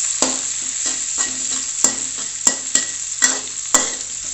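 Shallots frying in a pan over low heat for green sambal, a steady close sizzle punctuated by regular sharp taps of a utensil stirring and scraping the pan.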